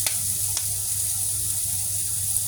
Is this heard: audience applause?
no